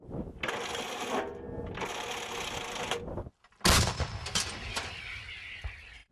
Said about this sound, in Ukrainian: Ціль уражена залпом з кількох гармат